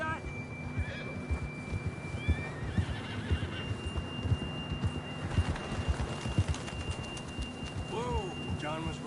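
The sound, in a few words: horse neighing in video game Red Dead Redemption 2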